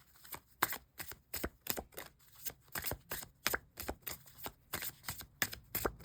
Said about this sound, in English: let's just shuffle a few more times